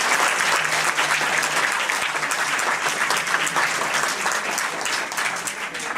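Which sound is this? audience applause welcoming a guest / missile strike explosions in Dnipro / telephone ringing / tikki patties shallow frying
audience applause welcoming a guest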